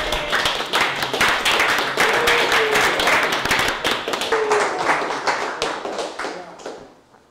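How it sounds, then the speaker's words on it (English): An audience gives a big round of applause for a presenter at an evening presentation, with many hands clapping in a loud, crisp burst that stays dense for several seconds before thinning and fading away. "Let's give Paul a big round of applause"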